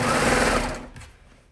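A sewing machine stitching a raw-edged jersey sleeve seam runs in a fast, loud buzzing burst up close, then slows and fades out within about a second, with no one speaking.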